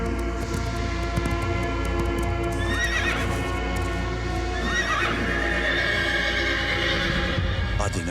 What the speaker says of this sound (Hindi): आधे नक्शे के साथ मैं अपने घोड़े समेत खाई में गिर गया